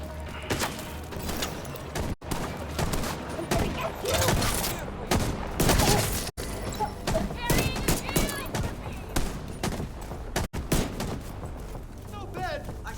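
Gunfire from a Regulus pistol in The Division 2 crackles through a chaotic firefight, with repeated sharp shots, bursts and booms layered over constant combat noise and occasional voices.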